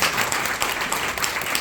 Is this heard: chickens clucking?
no